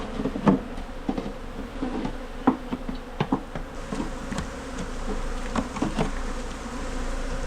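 Honey bees swarm during a wild hive removal from a chest of drawers in Trinidad and Tobago, a steady close insect buzz with scattered louder knocks and thumps as comb is scooped and dumped.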